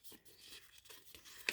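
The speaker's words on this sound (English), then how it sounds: "remove the release paper" Release paper is peeled off a craft cube card, a close, quiet tearing rasp in a few short strokes ending with a crisp snap.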